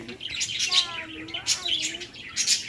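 A small bird chirps repeatedly in quick, bright, close calls outdoors at a quiet historic house, with faint voices in the background.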